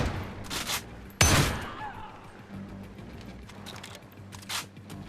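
Gunfire in the VR shooter Zero Caliber, set in a woodwork warehouse, with a few sharp, fairly loud reports spaced out over several seconds amid lower background game noise and a brief voice.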